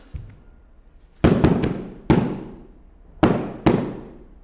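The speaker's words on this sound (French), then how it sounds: "Les obus tombent, alignés par 8 de front." Artillery shells land and explode in a line on a battlefield, several sharp heavy blasts about a second apart, each one trailing off in a long rumbling decay, loud and fairly close.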